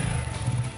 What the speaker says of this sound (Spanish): encendemos la motocicleta y vamos a probar el apagador.